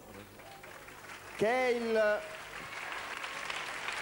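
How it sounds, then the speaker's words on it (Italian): Telethon studio audience applause rises behind a brief spoken phrase from a man, a soft continuous wash of clapping that grows fuller after he stops. "vi prego di accogliere con un applauso"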